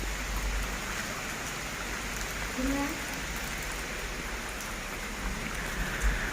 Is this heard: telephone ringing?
no